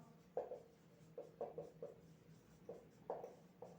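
Chalk or marker writing on a board during a chemistry lecture: short tapping and scraping strokes in irregular bursts, close and fairly clear, with no talking over them.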